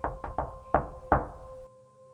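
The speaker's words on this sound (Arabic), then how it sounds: "وفضل يخبط عليها" Knocking on an apartment door: five sharp raps in an uneven sequence, with two quick knocks, a short pause and then single harder blows, clear and close, with no voices.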